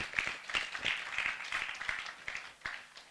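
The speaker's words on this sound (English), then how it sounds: "Please, a round of applause for him." Clapping from a modest audience at a GDAG 2017 event welcomes a CEO, individual sharp claps audible within a thin, uneven patter that rises and dips over a few seconds.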